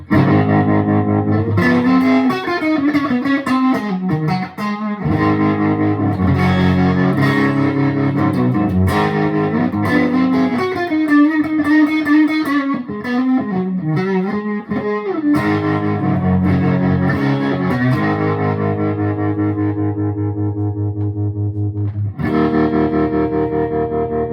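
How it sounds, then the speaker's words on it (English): Electric guitar played through a green Tube Screamer-style overdrive pedal, chords and riffs with a gritty, mid-heavy crunch and a touch of amp reverb, loud and continuous. "this is more like the green pedal, what everybody knows, the tube screamer type sound"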